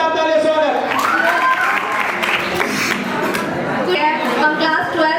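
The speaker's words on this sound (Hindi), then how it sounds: "और अपनी मेहनत और लगन के साथ जोरदार तालियों से स्वागत।" Loud applause and cheering from a crowd welcoming students at a coaching centre farewell ceremony in Punpun, Patna, with voices and music-like tones running through the steady clapping.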